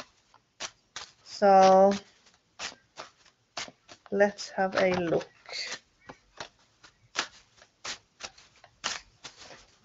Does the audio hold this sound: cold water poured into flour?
no